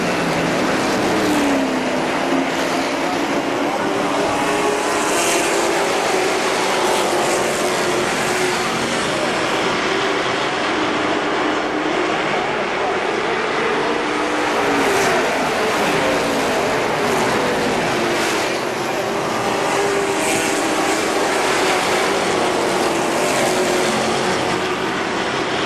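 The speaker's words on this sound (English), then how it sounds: "we're ready to go racing for 30 laps for the NASCAR Weekly Racing Series late models" NASCAR Weekly Racing Series late model race cars racing at KilKare Speedway, a continuous loud drone of several engines circling, with swelling passes rising and fading over the steady roar throughout.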